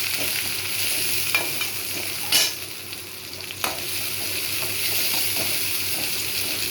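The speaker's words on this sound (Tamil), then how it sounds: "சின்ன வெங்காயம் வதங்கிடுச்சு" Shallots sautéing in a pan with cumin, ginger and mustard seeds, a steady hiss of frying with a few sharp clicks of stirring, close and moderately loud with no talking.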